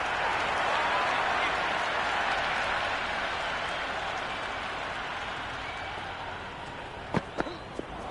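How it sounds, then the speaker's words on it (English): A video-game cricket stadium crowd roars in a broad, continuous wash of cheering and applause that slowly eases, with a few sharp knocks near the end. "Will you listen to that crowd? They are loving this."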